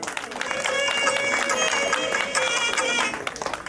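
Audience claps at an anniversary celebration ceremony at Sri Rudra Pyramid, a steady wash of applause from a seated crowd lasting a few seconds, with voices murmuring underneath.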